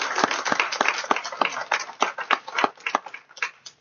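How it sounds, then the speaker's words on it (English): An audience at a panel discussion on Hispanic and Latino history gives a round of applause, a few dozen hands clapping close and crisply, thinning out toward the end. "we owe them a big round of applause"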